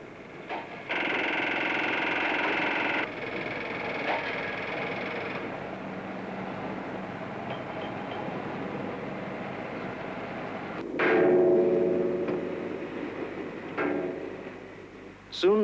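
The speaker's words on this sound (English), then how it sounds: "Riveters chattering from one end of the site to the other." Riveters chatter across a refinery construction site, a rapid mechanical rattle, loudest near the start and then fading to a busier, distant clatter, with a brief voice partway through.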